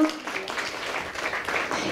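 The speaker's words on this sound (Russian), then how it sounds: "О, аплодисментами вітаємо" An audience applauds at a cancer talk event in Lviv, a brief burst of scattered clapping in a hall that stays fairly steady and moderately loud.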